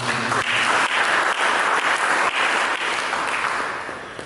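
Church congregation breaking into applause during a sermon on the Messiah, a continuous loud wash of many hands clapping that slowly fades toward the end.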